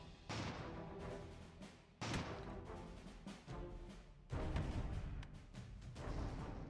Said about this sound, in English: Oh, they have cannons back there.